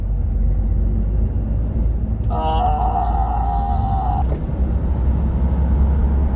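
A car drives along a road, heard from inside as a constant heavy low rumble, with a thin whining squeal rising over it partway through.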